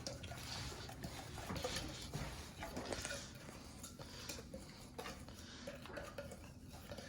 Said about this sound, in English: Take your whisk, mix that all together. Whisk it up.